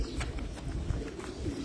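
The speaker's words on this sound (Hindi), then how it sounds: "ये हमारा मेन और बड़ा कबूतर है" A pigeon on a rooftop loft in Dubai coos softly and repeatedly, low and muffled against a steady outdoor background.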